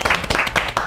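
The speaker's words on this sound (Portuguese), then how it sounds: "Eu aplaudo Jaceline." A short burst of hand clapping in an interview setting, several quick claps close by with some voice-like texture mixed in, lasting under a second.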